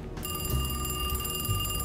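A telephone rings inside the Alone in the Dark video game: a sustained, bright electronic trill that starts abruptly and stays steady, heard alone without voices.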